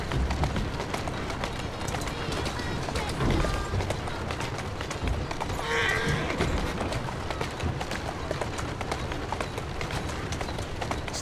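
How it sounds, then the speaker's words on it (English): Horse hooves clip-clop at a steady running pace in Assassin's Creed Syndicate, a continuous rhythmic patter under ambient street noise, with at most a faint brief whinny. "Who's a good horse? You are."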